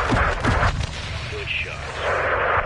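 In a console war game, an RPG rocket fires and explodes: short heavy booms and a rushing whoosh close by, mixed with battle noise and radio-style voices talking.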